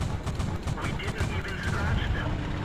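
Tank cannon fire in the World of Tanks video game, dense overlapping booms and crackling gunfire from a loud battle mix that fills the whole stretch without a pause.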